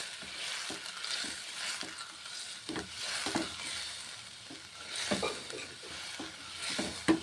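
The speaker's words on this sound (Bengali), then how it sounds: "ভেজে নিচ্ছি পনির, মুগের ডাল আর মশলা" Paneer, mung dal and spices fry in a pan, giving a continuous close sizzle broken by irregular stirring scrapes and light clinks, with no talking.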